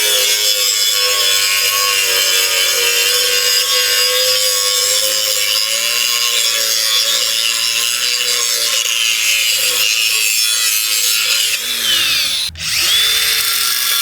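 A DeWALT 20V MAX XR Power Detect cordless grinder runs continuously with a loud, close, high-pitched whine and grinding rasp, its pitch dipping as it loads up and winds down near the end.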